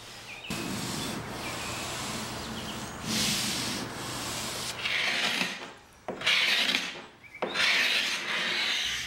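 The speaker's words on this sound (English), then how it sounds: "I'll start with this carbide scraper to understand what type of wood species I'm working with on this dresser" A carbide scraper rasps paint off a mahogany-veneer dresser in long, steady strokes, a gritty scraping that runs in repeated bursts with short pauses between passes, close and fairly loud.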